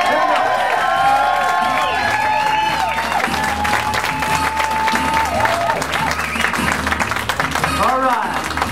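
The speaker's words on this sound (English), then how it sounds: "how about a nice round of applause for the Scat Cat?" A crowd applauds and cheers for a ventriloquist's cat puppet act, sustained clapping with whoops, while voices and a melodic, warbling tone run over the ovation throughout.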